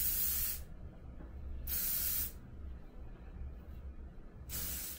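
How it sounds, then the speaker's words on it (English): Three loud bursts of texture spray aerosol hiss close by as it is sprayed onto hair, each about a second long, separated by short quiet gaps. "I'm gonna go ahead and spray this in my hair."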